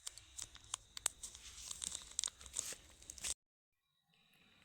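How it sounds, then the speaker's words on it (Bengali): Scissors cut open a Sunsilk shampoo sachet with a close, crisp run of snipping and crinkling plastic for about three seconds, then it stops abruptly into near silence. "শ্যাম্পুটা কাটছি"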